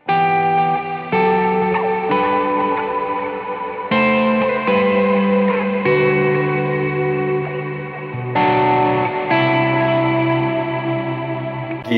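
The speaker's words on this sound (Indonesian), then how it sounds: "Cloud, tapi lebih big reverb lagi." An electric guitar played through a Cloud reverb pedal set for big reverb, loud sustained chords that swell and wash into long, shimmering tails, changing chord every couple of seconds with no talking.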